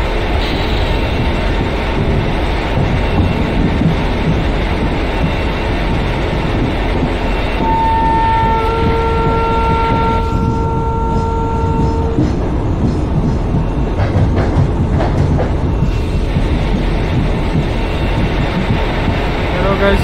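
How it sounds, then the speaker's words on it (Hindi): Ratlam intercity express, an ICF-coach passenger train in a train simulator game, rumbles past loudly and steadily for the whole stretch, with a horn-like tonal blast partway through. "रतलाम इंटरसिटी पास करते हुए रुकेगा शायद इधर।"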